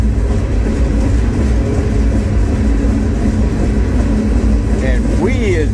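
A CSX freight train rolling toward Monroe and Rocky Mount, heard from aboard a grain hopper car: a loud, steady low rumble with rattling, and curving metallic squeals rising near the end.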